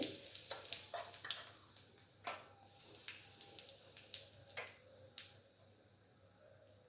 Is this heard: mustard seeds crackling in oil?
yes